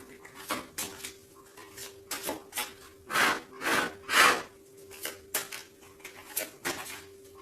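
Tarot cards are shuffled by hand in a quick series of soft riffling bursts, close by, with a few louder swishes in the middle and a faint steady hum underneath.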